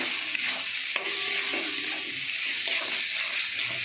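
Spice masala with chili powder and tomato frying and being stirred in a pan, a continuous bright sizzle with a few scraping clicks of the spoon, close and steady, no talking.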